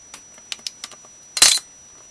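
A blade slices the end off a polymer clay rose cane: a few light taps and clicks, then one short, louder scraping cut, close and isolated in a quiet room.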